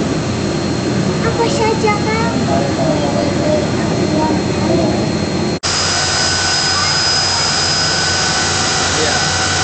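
Jet airplane engines roar steadily at Adisucipto airport, a loud continuous whine and rumble close by, with people talking briefly over it.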